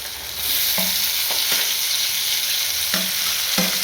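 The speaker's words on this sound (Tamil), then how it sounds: "பச்சை மிளகாவும் வெங்காயமும் வதங்கி வச்சு வந்து தக்காளி போட்டுக்கலாம்" Chopped tomatoes go into a pan where onion and green chilli are sautéing, bringing a loud continuous sizzle broken by several soft stirring scrapes, with no talking.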